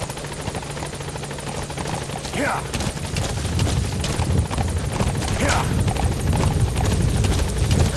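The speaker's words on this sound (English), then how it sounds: "Support helicopter has arrived." A support helicopter in Metal Gear Solid V arrives at the landing zone, its rotor thumping loudly and growing nearer and louder, with bursts of radio chatter over the steady roar.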